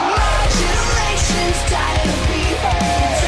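An excerpt of a metalcore song plays loud and dense, with heavy chugging guitars, pounding drums in a driving rhythm and a sung melody on top.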